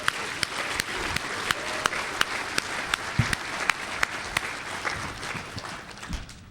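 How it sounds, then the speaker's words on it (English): Applause from a DEF CON hacking conference audience, a steady wash of many hands clapping at moderate level with sharper individual claps standing out, running the full stretch and thinning slightly at the end. "I want y'all to give Doodle a big old round of applause"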